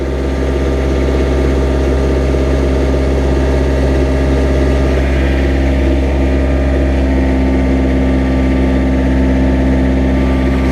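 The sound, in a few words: gang mower engine idling after cold start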